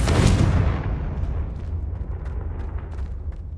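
Blasting curse explosion in the Hogwarts Legacy video game: a loud, close boom that bursts at the start and decays into a long rumbling tail with scattered crackles.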